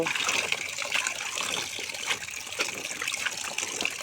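Water runs and trickles steadily over freshly dug turmeric roots as soil is rinsed off, a close, continuous splashing wash with no talking.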